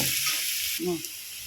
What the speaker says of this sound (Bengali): এবারে অল্প হলুদের গুঁড়ো দেব, দিয়ে কিছুক্ষণ থোঁড়গুলো ভেজে নেব